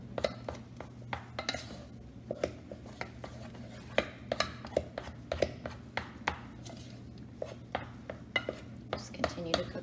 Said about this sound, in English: So now is when I usually switch to a wooden spoon to cook my choux